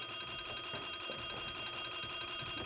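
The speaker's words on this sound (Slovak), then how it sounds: "Ela, zvoní ti budík." An alarm clock rings in a steady, continuous bright tone that lasts the whole moment, with no voices over it.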